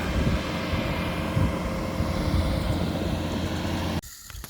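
A Bobcat T650 compact track loader with a power grader attachment works a new lawn, its diesel engine a loud, steady drone with rumbling low end that cuts off abruptly near the end, leaving quieter background.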